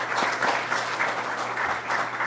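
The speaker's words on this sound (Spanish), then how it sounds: "Así que un aplauso por esta nueva incorporación" Applause from an audience at an academic session welcoming a new member, steady broadband clapping throughout the short stretch, with a low steady hum beneath.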